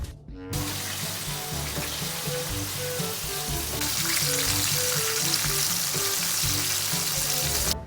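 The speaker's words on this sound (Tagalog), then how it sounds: "Nakalipas nga ng ilang minuto, tayo ay magpiprito na." Breaded chicken deep fries in hot oil and fat in a pan, a loud, continuous sizzle with crackling bubbles that swells slightly partway through, with no talking.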